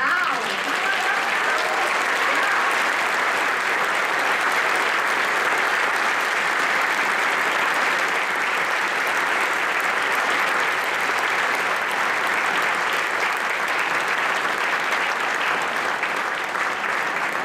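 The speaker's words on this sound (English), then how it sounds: "So let's hear it for Al." A concert band audience applauds a guest conductor stepping up to the podium before a Sousa march, a steady, dense wash of clapping from a large crowd that holds at an even level without pause for the full stretch.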